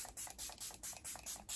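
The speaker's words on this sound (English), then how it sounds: "Then I take this again, spray it all over me." Makeup setting spray is pumped over the face in quick repeated puffs, about seven short faint hissing sprays in a steady rhythm, heard up close.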